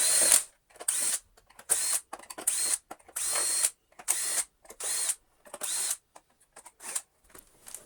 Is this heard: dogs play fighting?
no